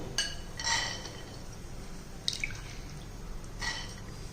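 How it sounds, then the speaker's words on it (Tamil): Soaked green gram tipped into a cooker pan on a lit gas stove gives a few soft, scattered wet drips and light clinks, quiet and close, with long gaps between them. "இப்போ இதில் நமக்கு ஊற வச்ச பயிரை இதில் போட்டுக்கிறோம்."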